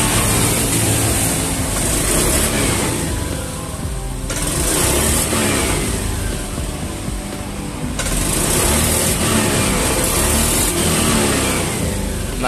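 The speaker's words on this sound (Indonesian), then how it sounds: "Jadi ini kendalanya, motor ini berebet-berebet teman-teman" A Beat ESP motorcycle engine is revved repeatedly while it stutters and misfires from a delay and loss of pulling power. The loud, close engine noise rises and falls in uneven surges, with no talking.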